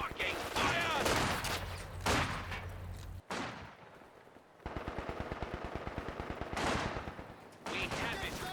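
Company of Heroes 2 battle gunfire: sharp bursts and a steady rapid machine-gun rattle, moderately distant, with brief gaps between volleys and some voice chatter.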